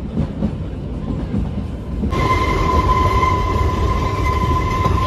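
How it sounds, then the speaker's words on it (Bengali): Kalka–Shimla toy train on the Shivalik Deluxe service running through the hills, a steady close rumble of wheels and carriage noise with a sustained high whine that swells in after two seconds, no talking. "আমাদের ট্রেন ছুটে চলেছে"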